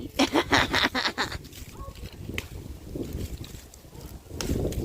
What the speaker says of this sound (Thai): ลมแรงเกินนะคะ ต้องหาอะไรมาเหยียบทเหยียบไว้